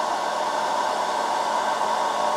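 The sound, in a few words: hair dryer running at maximum, 1200 watts, on power station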